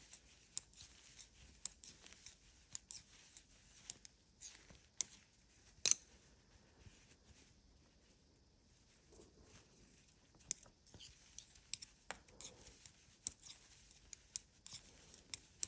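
Knitting needles click irregularly while stitches are worked on two needles, a quiet scatter of small sharp taps and rustles with brief gaps, no talking.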